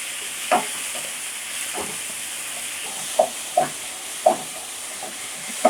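Finely chopped tomatoes frying in a pan for a squid gravy, giving a steady hissing sizzle broken by a few spaced, sharper spatula scrapes and knocks, close and fairly loud, with no talking.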